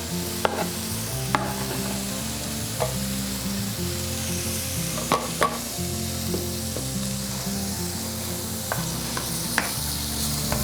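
Onions, peppers and garlic stir-fry in a pan for chicken with vegetables: a continuous loud sizzle with occasional scrapes and taps of a utensil, while a low musical backing plays underneath and no one speaks.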